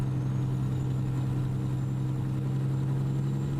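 Truck engine laboring in the American Truck Simulator video game, a steady low droning hum that holds constant and moderately loud with no breaks.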